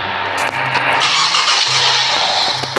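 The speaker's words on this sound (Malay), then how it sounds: "Ni guys, kereta Lambo." A Lamborghini engine in the Roblox video game sounds as a steady, loud synthetic drone filling the whole clip, with faint low engine tones surging in brief bursts.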